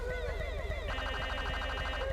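A video game police siren wails in rapid repeating sweeps, then switches partway through to a different, faster warbling pattern, loud and continuous with no talk.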